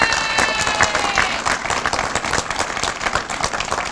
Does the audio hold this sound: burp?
no